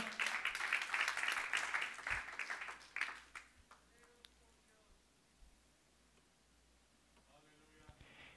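Church congregation claps for the Lord in a burst of dense, fairly loud applause that fades within about three seconds, leaving faint scattered claps and quiet room noise.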